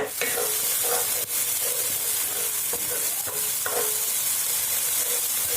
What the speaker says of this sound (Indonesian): Lebih enak kalau bumbunya ditumis dulu teman-teman.